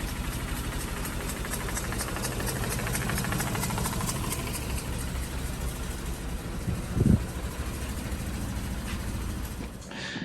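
A steady, loud Mazda RX-8 13B rotary engine idle with low compression: a continuous rumbling drone and slight mechanical rattle, running alone with one brief louder thump partway through.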